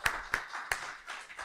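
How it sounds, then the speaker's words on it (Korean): Scattered hand claps from a church congregation during a Sunday Christmas morning service, a few sharp separate claps followed by softer, uneven clapping, fairly faint. "우리 큰 박수로 영광 받으실 하나님께"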